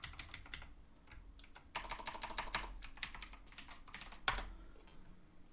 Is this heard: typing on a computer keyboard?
yes